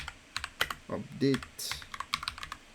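Fingers type a Linux terminal command on a computer keyboard, a quick run of light clicky keystrokes, close by and fairly quiet, with a brief spoken word partway through.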